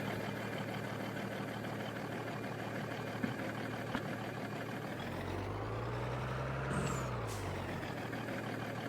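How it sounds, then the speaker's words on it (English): Kenworth truck in Farming Simulator 22 rumbling steadily with a low engine drone that rises midway, followed by a sharp hissing burst of air brakes near the end, loud and close with no talking. "we get back over here to this big fancy Kenworth"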